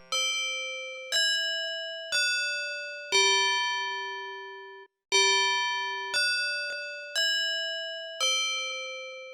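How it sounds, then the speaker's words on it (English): Clock chime from the computer game The Colonel's Bequest: a sequence of eight clear, ringing tones in a steady rhythm, each struck note decaying before the next, split into two phrases of four with a short pause between. "I also love the clock chime."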